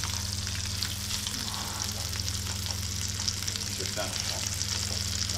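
Duck pieces laid skin side down in a hot pan, frying with a strong continuous sizzle and crackle close by, a low kitchen hum underneath and someone speaking briefly in French over it.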